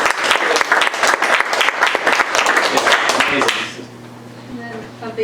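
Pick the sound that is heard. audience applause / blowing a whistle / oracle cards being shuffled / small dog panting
audience applause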